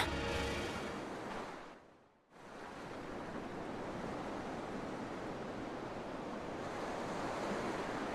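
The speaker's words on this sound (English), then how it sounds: "Wow, look outside! It's the ocean!" Ocean waves at an underwater temple in Tales of Berseria make a steady, faint wash of surf noise. It dips briefly to near silence, then continues evenly with no voices.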